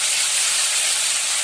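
Ginger dropped into fried tomatoes sizzles in a pan while cooking rajma paneer, a loud, even, continuous hiss with no pauses and no voices.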